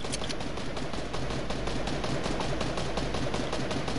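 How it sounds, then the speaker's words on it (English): Gunfire in a video game, a rapid, evenly spaced stream of shots rattling continuously over a dense, noisy background of battle sounds. "They shooting him down and everything"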